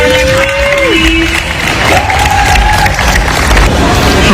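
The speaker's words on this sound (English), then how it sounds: "Can you get a round of applause to watermelon pie, please?" An audience cheers and applauds for a watermelon pie at a local event, a loud continuous crowd noise with a few whistles over the clapping.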